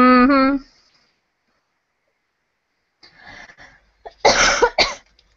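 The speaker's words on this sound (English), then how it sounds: "don't mind my coughing" A short voiced sound, then silence, followed by a burst of harsh, raspy coughs up close.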